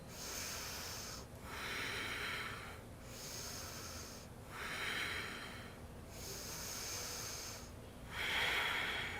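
Slow, deep yoga breathing through the nose, close and fairly quiet. Six steady alternating inhales and exhales each last about one to one and a half seconds, with short gaps between them and no voices.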